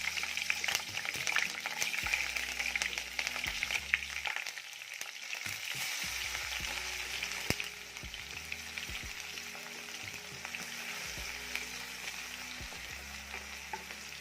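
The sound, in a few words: frying garlic and chillies in hot oil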